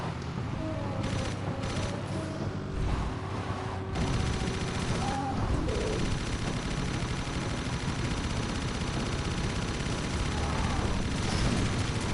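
Guns mounted on a vehicle in Jak III fire in sustained, dense bursts, loud and continuous across the whole stretch, with some game sounds mixed in.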